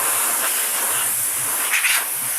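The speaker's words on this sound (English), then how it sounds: "Take some canned air." Canned air spraying dust off a disassembled fat PS3, a steady loud hiss throughout with a brief stronger burst near the end.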